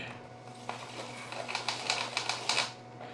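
A plastic salad spinner with plastic gears in its base spinning, a rapid clicking ratchet whir that builds into louder, faster clattering bursts, close by over a steady low hum.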